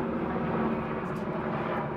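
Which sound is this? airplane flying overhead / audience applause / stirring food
airplane flying overhead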